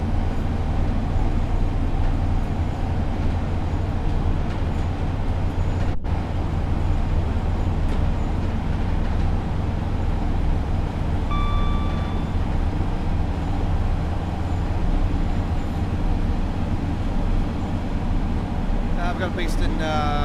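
Steady train running noise from Train Sim World 4, a continuous low rumble and rolling drone with a brief high whistle-like tone near the middle, under a speaking voice throughout.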